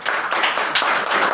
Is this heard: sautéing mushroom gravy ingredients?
no